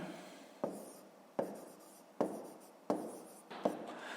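Pen strokes scratch across paper while working a fifth-grade fractions exercise, with five soft, close scribbling bursts, each beginning with a small tap, at a steady pace in a quiet room.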